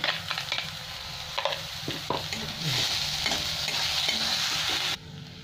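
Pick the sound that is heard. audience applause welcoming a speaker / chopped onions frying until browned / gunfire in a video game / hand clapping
chopped onions frying until browned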